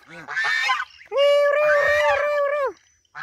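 Geese by a pond honking loudly and close, three nasal calls with the longest in the middle and short gaps between them, with no other sounds.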